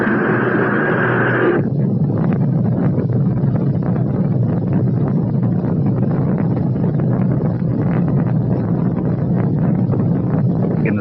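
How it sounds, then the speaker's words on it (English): Rocket main engines ignite at launch with a loud, roaring broadband rumble that stays steady and saturated, after a brief tonal sound at the start. "We've gone for main engine start."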